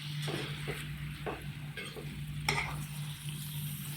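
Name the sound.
stirring tomatoes into bitter gourd curry in a pan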